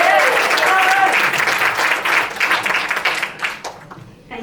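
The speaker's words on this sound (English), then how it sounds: "That was the best KPI clap-a-thon, whatever you call that." Cinema audience applauding at a fundraiser Q&A screening, dense clapping that starts loud and gradually thins and fades over a few seconds, with some voices mixed in.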